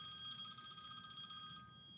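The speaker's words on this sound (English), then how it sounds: "Oh, my phone's ringing." A phone rings with a bright electronic trill repeating steadily, faint and slightly distant, over a quiet room hum with no talk.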